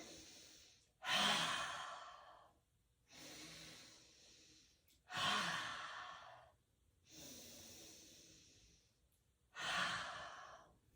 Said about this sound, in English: We'll take 3 big, full buffalo breaths here.